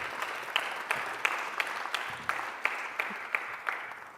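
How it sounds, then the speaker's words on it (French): Applause in a French parliamentary chamber during a debate on the Olympic Games bill, a rather sparse, slightly distant patter with distinct sharper claps standing out at a steady rhythm, no voices over it. "Je crois qu'on peut les applaudir"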